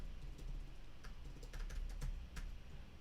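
Close computer keyboard typing in irregular bursts of crisp key clicks over a low steady hum while commands for an AWS CloudFormation static website are entered, with no voices.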